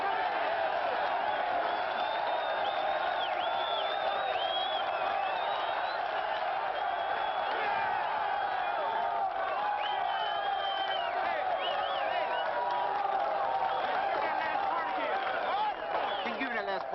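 A large crowd of prisoners cheers, yells and applauds after a rousing speech, a sustained, roaring wall of voices and clapping that holds steady throughout, heard from some distance.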